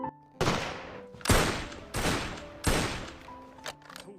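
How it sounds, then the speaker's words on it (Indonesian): Soldiers of the Danish army firing rifles during shooting practice in a war film, a series of four loud, booming shots at roughly even intervals, each with a ringing tail, followed by a softer final report. "prajurit yang ada di sana sedang berlatih menembak"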